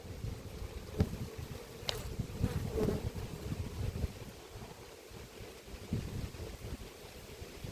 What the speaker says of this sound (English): See, there are quite a few bees in here,